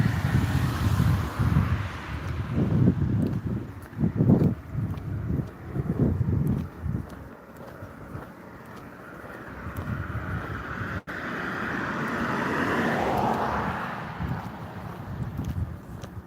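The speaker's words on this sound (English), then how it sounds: "Ah, yeah, the wind." Wind blows outdoors, buffeting the microphone in gusty low rumbles that swell and fade, with a steadier rushing stretch later on.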